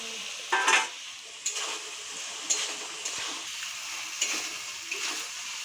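Fried paneer sizzles in a hot pan with a close, continuous hiss, punctuated by a few sharper bursts as the pieces are stirred.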